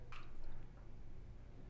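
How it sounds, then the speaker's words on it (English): Water being scooped out of a freshwater aquarium with a measuring cup during tank setup, a brief close splash and drip followed by quieter trickling over a low background hum. "The next step is to remove some water."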